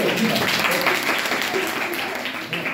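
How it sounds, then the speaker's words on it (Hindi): Students in a classroom environment lecture clap together on the teacher's cue, a dense, loud burst of many hands sustained evenly for a few seconds. "ताली बजाओ"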